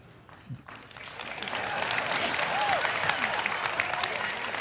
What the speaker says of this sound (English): why are they clapping?